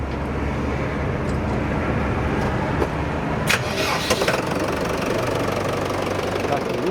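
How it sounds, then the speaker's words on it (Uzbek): A Dongfeng 904 E tractor engine cranks and fires up, settling into a steady, close rumbling drone, with a few sharper knocks partway through. "Bu traktorda hozir yurgizib ko'ramiz."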